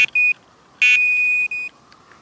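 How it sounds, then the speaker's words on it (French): A carp fishing bite alarm detector gives sharp, steady electronic tones: a short beep, then a longer run of beeps and a sustained tone, loud and close, with no one talking. "Et maintenant on va faire biper donc le détecteur."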